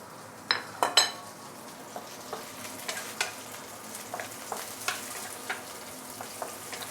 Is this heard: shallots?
yes